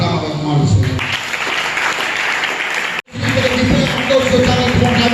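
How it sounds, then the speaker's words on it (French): A church congregation applauds in praise during a worship service, a dense continuous wash of clapping mixed with voices, broken by one brief sudden dropout before the applause resumes. "Acclame avec moi le Seigneur."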